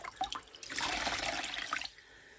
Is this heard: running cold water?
yes